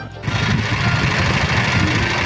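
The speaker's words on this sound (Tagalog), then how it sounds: "After 2 months, lumakas yung ingay ng aircon compressor." A noisy air-conditioning compressor on a Toyota Tamaraw FX runs steadily, giving a loud, continuous mechanical drone with a fast rattling chatter throughout and no talk over it.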